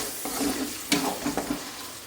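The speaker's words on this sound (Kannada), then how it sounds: "ಇವಾಗ ಇದಕ್ಕೆ ರುಬ್ಬಿರೋದು ಈರುಳ್ಳಿ ಶುಂಠಿ ಬೆಳ್ಳುಳ್ಳಿ ಪೇಸ್ಟು ಇದನ್ನು ಹಾಕ್ಕೊಂಡು ಚೆನ್ನಾಗಿ ಸ್ವಲ್ಪ ಎಣ್ಣೆಯಲ್ಲಿ ಬಾಡಿಸ್ಕೋಬೇಕು" Onion, ginger and garlic paste frying in oil makes a soft, steady sizzle, broken by a few close spoon scrapes and taps against the pan, with no talk.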